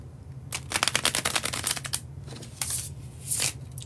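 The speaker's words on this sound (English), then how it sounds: "when I do the bridge shuffle" A small tarot card deck gets a bridge shuffle, with a fast, close burst of crisp riffling clicks followed by softer card shuffles and taps.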